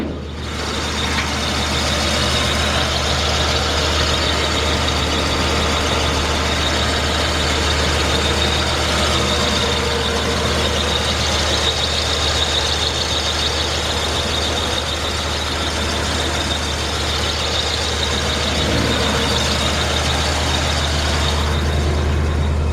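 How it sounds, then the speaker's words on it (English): A 1952 Oldsmobile Futuramic 88 engine running steadily at idle, a constant low rumble with a broad mechanical hum, close and unchanging for over twenty seconds with no talk. "Engine sounds great. No smoking. I mean, the thing runs strong."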